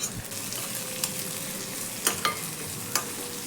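Sprouted moong beans fry with onion and curry leaves in a pan. There is a steady sizzle, and a few sharp scrapes and clinks come from stirring. No one speaks.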